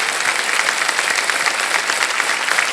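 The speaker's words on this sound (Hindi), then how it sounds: "आपके लिए हम एक बार फिर जोरदार ताली बजाना चाहें।" A studio audience on a quiz game show breaks into loud, sustained, even applause with no talking over it.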